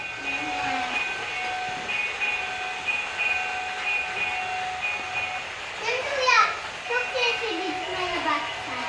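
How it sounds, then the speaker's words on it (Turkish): A toy train rattles along as a child chatters. Near the end, a short series of bright, sweeping electronic horn tones sounds. "Korna çalıyor bak."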